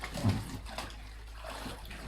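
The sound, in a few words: children jumping into a pool for water balloons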